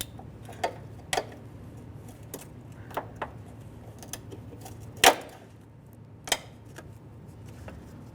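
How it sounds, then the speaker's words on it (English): A trim tool pries wiring harness clips loose on a 2012-2018 Nissan Altima 2.5L L4 engine bay, giving scattered sharp plastic clicks and snaps, one louder pop midway, over a quiet low hum. "Continue with the trim tool."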